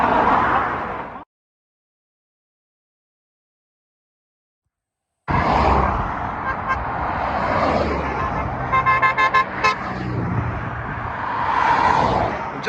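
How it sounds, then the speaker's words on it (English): A Rolls-Royce Ghost and a Ferrari F8 on a UK road during the Gumball 3000 rally pass by loudly after a stretch of silence, engine roar swelling with traffic noise and a brief horn toot mixed in. "We've just had the Ghost and F8 go by."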